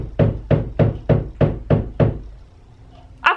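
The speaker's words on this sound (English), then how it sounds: "I thought someone was knocking on the door. That's the wall" Seven evenly spaced knocks from workmen next door thud dully through a wall, muffled and fairly loud, followed by a short pause and a brief bump at the end.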